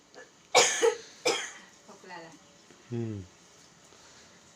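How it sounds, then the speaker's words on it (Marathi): Two sharp coughs close together, followed by a throat-clearing rasp and a short voiced sound, close to the mic in a quiet room. "खोकला आला"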